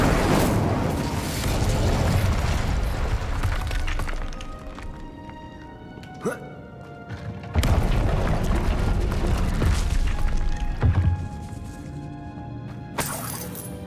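In Hogwarts Legacy, an Incendio fire spell bursts out amid dense, booming game effects, with loud crashes and shattering hits rising and falling over a steady rumbling backdrop.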